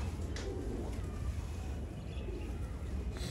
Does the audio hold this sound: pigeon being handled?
yes